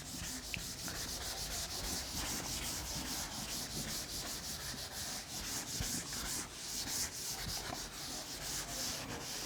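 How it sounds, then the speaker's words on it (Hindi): Writing being wiped off a classroom board during a physics lesson, a steady, close scrubbing and rubbing that runs continuously with quick rhythmic strokes, heard alone with no talking. "तो मैं अब रब करता हूं इनको फटाफट।"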